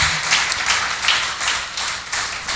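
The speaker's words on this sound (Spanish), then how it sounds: "¿Por qué no le doy un aplauso al Señor entonces esta mañana" Church congregation clapping for the Lord during a Spanish-language worship service, a steady broad patter of many hands that swells in waves and carries on without pause.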